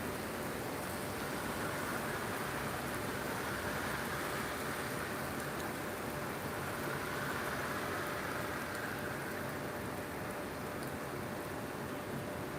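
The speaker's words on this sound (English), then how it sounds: "Today there have been several waves of the rain." Steady rain falling over a park, a continuous, even hiss that stays at one level throughout, with no voices.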